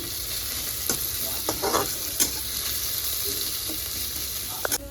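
Meat and spices frying together in hot oil in a pan, a steady close sizzle with scattered stirring scrapes and a few sharp clicks, no voices.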